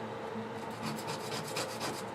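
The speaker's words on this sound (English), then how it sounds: "we can make it even sharper with" Sandpaper rubbing on a small wooden piece for a tabletop warcamp model to sharpen its point, a steady rasping scratch with quick back-and-forth strokes, close and continuous.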